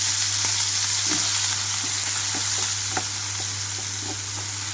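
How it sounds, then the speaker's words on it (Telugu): Chopped onions and green chillies frying in hot oil with garlic for a dhaba-style lasooni methi curry, a loud, dense, steady sizzle with scattered light pops and stirring ticks throughout. "ఇందులోకి కట్ చేసి పెట్టుకున్న ఉల్లిపాయలు అలాగే పచ్చిమిరపకాయలు వేస్తున్నాను"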